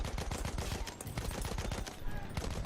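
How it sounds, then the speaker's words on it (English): A Fedorov Avtomat rifle fires in Battlefield 1 in a rapid, steady stream of close shots that fills the whole stretch at moderate level. "I'm loving the Fedorov automat."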